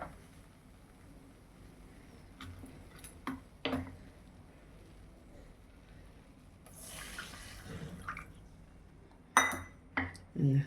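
Intermittent clinks and scrapes of a utensil against a pan as white sauce with milk is stirred, with a soft bubbling wash in between and a few sharper knocks near the end.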